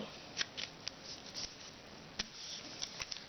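Origami paper being folded for an Easter lily model, with soft crisp creases and scattered light taps and rustles, close and fairly faint, without talk.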